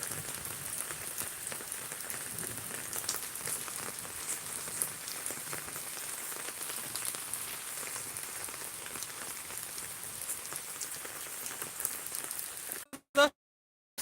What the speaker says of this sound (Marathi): पाऊस पडलेला आहे